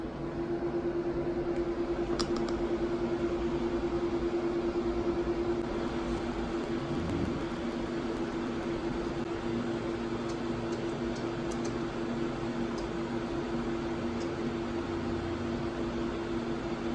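An Apple Xserve RAID storage enclosure powering up with its cooling fans running, giving a loud, steady broadband whoosh with a constant low tonal drone throughout, no voices.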